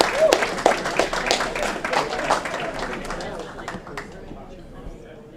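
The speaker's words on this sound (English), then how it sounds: "One more round of applause for Kenny Battle, the legend" An audience at an Aurora city council meeting claps in a legend's honor, a loud, crowded patter that gradually thins and fades over several seconds, with voices murmuring beneath it.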